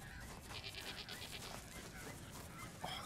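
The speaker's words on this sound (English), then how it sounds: "it's a goat." A goat in the Australian survival video game Straya bleats faintly a few times against a quiet, low ambient background.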